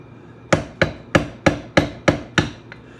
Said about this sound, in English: I need my little bitty hammer